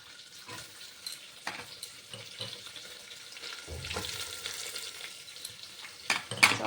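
Chopped onions frying directly in a pressure cooker with pepper and cinnamon, a steady close sizzle with stirring and occasional clinks of a utensil against the pot, growing louder toward the end.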